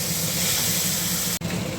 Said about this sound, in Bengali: এবার দিয়ে দেবো জিরে ধনে কাঁচা লঙ্কা বাটাটা দিয়ে নাড়িয়ে দেবো